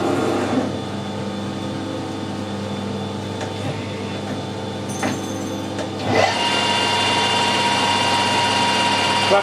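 A lathe turns at 1000 RPM while machining a carrot, giving a steady, close mechanical hum and whine with faint ticks, growing a little louder and brighter toward the end.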